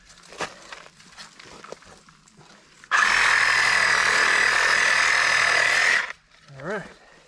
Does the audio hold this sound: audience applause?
no